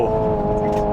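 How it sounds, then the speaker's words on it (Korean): Hyundai Ioniq 5 N electric car playing its simulated combustion-engine sound, a steady droning synthetic engine note with a fuel-cut effect while driven on a public road, loud and continuous under a brief bit of talk. "근데 이 정도만 하더라도 이 퓨얼컷까지 구현해놨네요."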